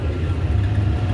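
Tractor engine running at 2050 rpm driving a mower through grass, a steady low heavy droning hum at moderate distance with no talk.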